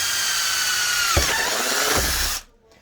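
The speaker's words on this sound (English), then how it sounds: "by drilling a hole in the plastic" A power drill whirs steadily through hard plastic on a Traxxas XRT RC truck, briefly bogging down twice, then stops abruptly and leaves near silence.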